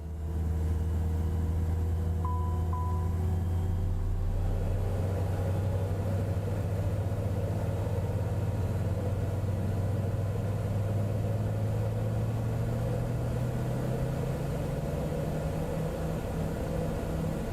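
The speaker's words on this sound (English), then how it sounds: "let's go ahead and start the left-hand engine" Left engine of a Cessna Citation X spooling up in MSFS 2024, a steady droning whine and rumble that rises gradually in pitch over many seconds, with a brief electronic tone near the start and no talking.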